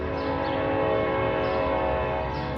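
A train passes through the West Bottoms of Kansas City amid construction, a steady, loud rumble with sustained horn-like tonal hum throughout, alone with no talk.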